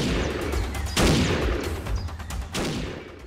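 Shotgun blasts in the Animal Revolt Battle Simulator video game crack out in loud bursts, a heavy boom near the start and another toward the end, with rumbling chaos between.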